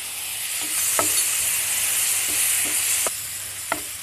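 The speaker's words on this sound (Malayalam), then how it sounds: "ചോപ്പ് ചെയ്തതിന് ശേഷം 1 കപ്പോളം ഉള്ള ടൊമാറ്റോ ഇട്ട്" Chopped tomatoes, about a cup, sizzling in a frying pan for a chicken roast, with a steady fry hiss and a few soft stirring clinks scattered through it, no voices.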